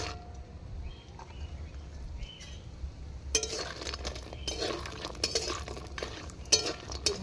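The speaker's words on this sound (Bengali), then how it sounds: "এই বড়িগুলোকে এখন ভেজে নিচ্ছি।" Homemade lentil dumplings (bori) fry in a home kitchen pan, heard as a low steady sizzle with scattered clinks and scrapes of a utensil against the pan that grow busier and louder toward the end.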